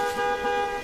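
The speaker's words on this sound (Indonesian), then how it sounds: "Mamang Botak mendengar suara klakson mobil dan mencoba mendekati suara tersebut" A single car horn sounds one steady, loud honk held for just under a second, close by and with no voices.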